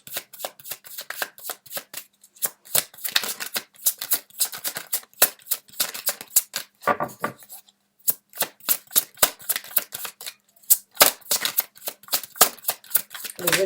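Tarot cards are shuffled by hand in quick rapid riffles and slaps, close and crisp, coming in repeated bursts with short pauses between them.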